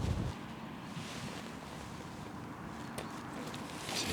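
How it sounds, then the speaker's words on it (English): Steady outdoor wind rumbles and buffets the microphone at a tent campsite, with a low, broad roar that rises slightly at the end. "Now it's windy."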